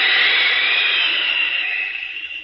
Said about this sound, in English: It's a bird. It's a plane. It's Superman